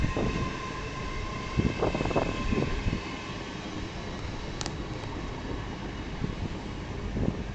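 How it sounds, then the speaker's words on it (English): An LNER Azuma train, unit 800-104, passes through Northallerton station on a cold, windy day, giving a steady broad rumbling rush with occasional clanks and a brief high squeal partway through, fairly close and constant throughout. "800-104 on a lner Azuma service to Edinborough Waverley."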